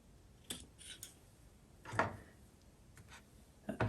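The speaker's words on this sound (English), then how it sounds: "So I'm just going to cut this one." Scissors snipping the stem of a Peperomia leaf, a few short sharp crisp cuts spaced a second or so apart, close and quiet, no voices.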